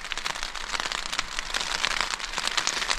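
Heavy rain drums steadily on a tent during a winter camping trip in deep snow, a dense, continuous patter close overhead with no voices.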